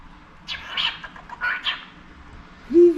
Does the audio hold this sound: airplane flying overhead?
no